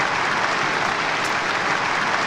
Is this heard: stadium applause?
yes